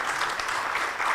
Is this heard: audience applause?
yes